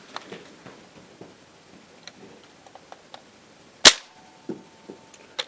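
A converted Nerf gun fired with no BB loaded gives one sharp, loud snap near the middle, set among faint scattered clicks and ticks of handling.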